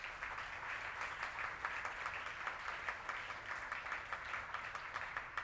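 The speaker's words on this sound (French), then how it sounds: "Vous pouvez l'applaudir." An audience at a French-language public information session applauds a commissioner being introduced, a continuous mid-distance patter of many hands with no speech over it.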